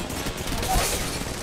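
Gunfire from the mobile video game Apex Legends Mobile, a dense rapid burst of shots blurring together in a busy game mix, steady and moderately loud over about a second and a half.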